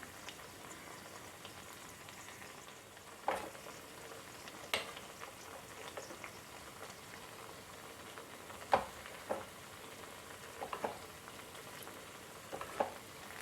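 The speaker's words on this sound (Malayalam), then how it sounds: "മീഡിയം ഫ്ലെയിമിൽ തന്നെ ഇട്ട് വേണം കേട്ടോ ഫ്രൈ ചെയ്യാനായിട്ട്" Onion vada fritters deep frying in oil over a medium flame, a steady soft sizzle and bubble with occasional louder pops and crackles, no talking.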